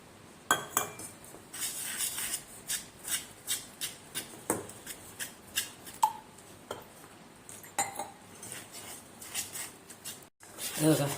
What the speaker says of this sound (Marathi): थोडं थोडं पाणी ॲड करून आपण याच्याने मिक्स करू